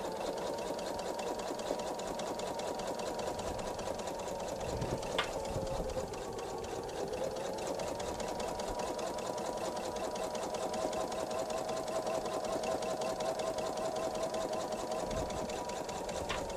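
A sewing machine stitches a bench pillow in a long, steady run, its rapid needle hum close and continuous with only brief changes in pace.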